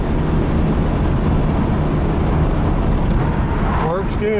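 A car with a small 170 cubic inch flathead six and overdrive transmission cruising along, a steady loud engine and road drone throughout with wind noise, close and continuous.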